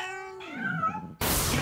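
Cats meow close by, a drawn-out, wavering cry followed by a second bending call, then a burst of loud broadband noise cuts in abruptly.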